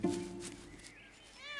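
A domestic cat meows in the countryside, a short rising call near the start followed by a fainter, higher mew at the end.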